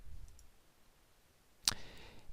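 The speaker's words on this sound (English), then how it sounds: "And then hit Save." A single sharp computer mouse click, close and brief, after a quiet pause with faint background noise.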